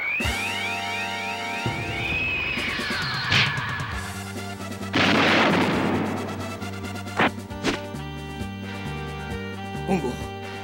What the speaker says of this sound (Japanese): 俺がこのサボテン爆弾であの世へ送ってやろう